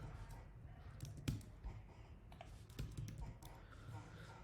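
Someone types code on a computer keyboard, producing quiet, irregular clusters of soft clicks and taps, with a faint voice in the background.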